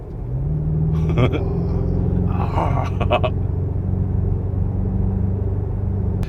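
A BMW M5 PHEV with a 727-horsepower V8 rumbles steadily as it gently accelerates, heard from inside the car as a continuous deep, loud drone with a few brief higher clicks.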